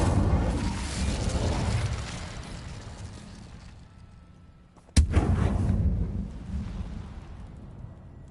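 A fire spell is cast in the Hogwarts Legacy game, a heavy roaring whoosh that fades, then a sudden sharp blast followed by another rumbling roar that slowly dies away.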